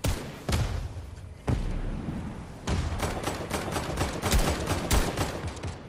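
Rapid bursts of gunfire from a Fortnite battle royale match crackle loudly and almost continuously, with sharp automatic volleys and heavier booms overlapping.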